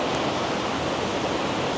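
Waterfall in South Tennessee, a dense, steady roar of falling water, loud and continuous with no other sounds.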